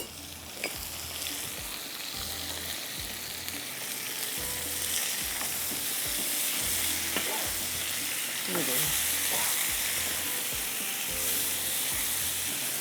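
Vegetables stir-fry in a pan with steady sizzling and crackling, while a utensil scrapes and stirs in a regular rhythm throughout, close and moderately loud with no talking.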